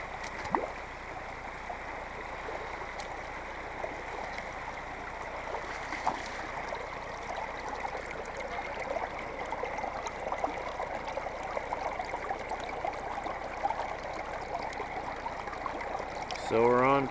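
Water runs steadily through a gold prospecting sluice box outdoors, a continuous close rushing and trickling wash that holds even from start to end, with a voice speaking briefly over it.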